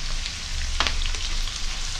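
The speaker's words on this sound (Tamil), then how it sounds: "இப்போ இதில் சின்ன சீரகம் அதை சேர்த்துக்கொள்ள முடியும்" Cumin seeds hit hot oil while sambar is being cooked, giving a steady close sizzle and crackle with a brief sharper burst partway through.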